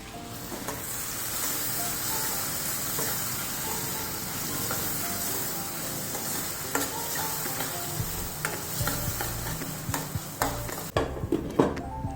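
Onion and garlic sizzle steadily in hot oil in a pan for pav bhaji, a continuous close frying hiss with stirring scrapes and clatter growing toward the end.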